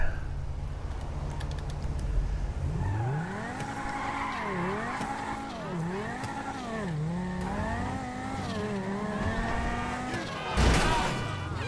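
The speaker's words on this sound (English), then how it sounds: "I'll drive over to my casino penthouse garage here" A car driven in GTA V revs through repeated rising and falling engine sweeps as it accelerates and shifts, with tire squeal and a burst of noise near the end, loud and close.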